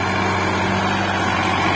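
A Sonalika 50 RX 52 hp tractor drags a cultivator with a continuous, loud, even engine drone, steady and close for the whole moment, with no voices.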